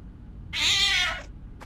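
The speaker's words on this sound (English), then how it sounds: "That damn cat." A cat in the game Nightmare of Decay lets out one loud, drawn-out meow, close and clear, followed by a brief faint chirp against a low background hum.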